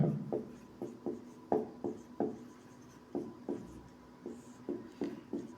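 Chalk or marker writing on a classroom board during a physics lesson, heard as a series of short, distinct scratchy strokes in an irregular rhythm, close and moderately quiet, with no talking.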